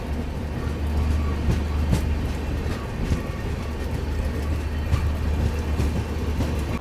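The Rameshwaram Firozpur Humsafar Express runs along near Ajmer, heard from inside a coach as a steady, loud low rumble with faint clattering over the rails and no talking.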